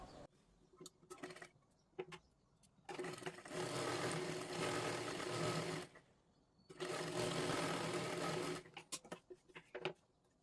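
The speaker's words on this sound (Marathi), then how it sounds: "इथे पण खालच्या बाजूला पूर्ण आपल्याला शिलाई मारून घ्यायची आहे।" A sewing machine stitches blouse fabric in two long steady runs, each lasting about three seconds, with short bursts and quiet handling between them; it sounds close and fairly loud.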